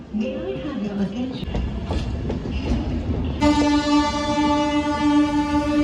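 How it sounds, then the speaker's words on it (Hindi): Shramjeevi Express, a daily New Delhi to Rajgir train, drawing onto platform 8 at New Delhi railway station amid busy platform noise and voices, then a loud sustained train horn sounds close by for the final seconds. "श्रमजीवी एक्सप्रेस लगाई जा रही है, जो नई दिल्ली से चलकर राजगीर की ओर जाती है"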